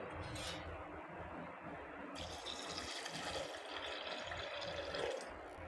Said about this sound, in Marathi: आपण पाणी घालू